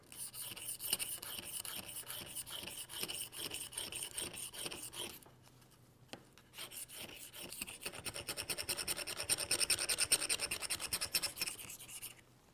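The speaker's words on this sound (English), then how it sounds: "now we're going to clean the screw. This can be done scraping along its length." Repeated rasping scrapes along the metal screw of a Ruger Silent-SR ISB suppressor during cleaning, a steady close filing rhythm that pauses briefly midway then resumes louder, with no talk.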